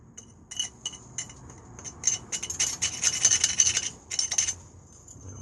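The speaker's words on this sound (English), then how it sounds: "And a screwdriver in, and we'll get the rest of that out" A screwdriver scrapes residue out of the eye of an old axe head, a close series of irregular metallic scratching and rasping strokes that cluster densely in the middle, with no voices.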